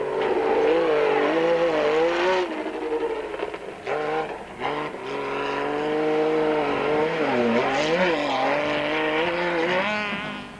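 A single-seater Raceco off-road race car in a 1997 desert race drives by, its engine revving and howling loudly, rising and falling in pitch with a brief dip partway through, no voices.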